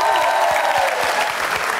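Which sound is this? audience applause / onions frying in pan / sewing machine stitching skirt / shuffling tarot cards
audience applause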